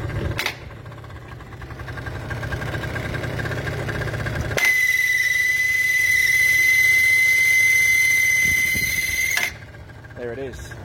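A Piaggio scooter engine runs, then a loud, steady high-pitched crank bearing squeal rises over the idle for several seconds before cutting off, with a voice speaking briefly near the end.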